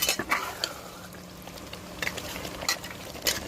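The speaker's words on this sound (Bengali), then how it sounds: "ভালো করে নেড়ে মাংসগুলো কষিয়ে নেব।" Mutton being stirred and sautéed in a pan, with a soft sizzle beneath repeated sharp scrapes and clinks of a spatula against the metal, close and fairly loud.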